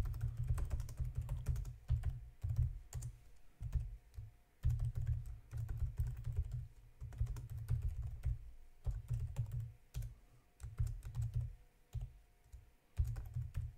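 Someone types code on a computer keyboard, a quiet and steady patter of keystrokes in uneven bursts with short gaps between them, and no voices.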